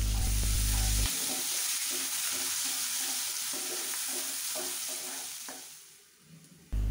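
Chopped onion hits hot oil with cumin and dried chili, raising a loud, steady sizzle with soft stirring scrapes; the frying hiss fades slightly toward the end before a sharp burst returns.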